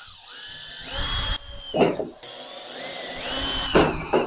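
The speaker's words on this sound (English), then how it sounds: "Right, let's get some holes drilled." A power drill bores holes in go-kart parts, the motor whining up in bursts with short gaps between, close and loud.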